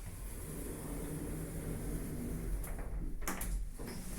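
Lift doors in a building in St Albans slide shut behind steady motor hum, ending in a couple of sharp clunks near the close as the doors meet, with no talking.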